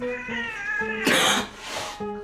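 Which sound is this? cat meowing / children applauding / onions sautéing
cat meowing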